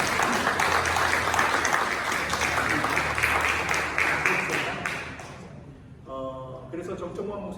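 Applause from a congregation during a Sunday church service, a sustained wash of clapping for about five seconds that fades out before a voice resumes speaking.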